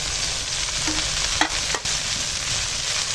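Leafy kalmi greens added to onion and garlic frying in a pan over a wood fire, giving a loud steady sizzle with a couple of sharp clatters of stirring midway.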